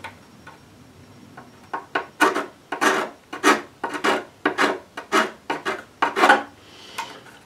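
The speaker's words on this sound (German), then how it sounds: "Deshalb habe ich diese Feile genommen mit der Abrundung." A metal file with a rounded edge rasps across a motor scooter part in a run of about fourteen short, rhythmic strokes, close and fairly loud, each a brief scraping burst with quiet gaps between.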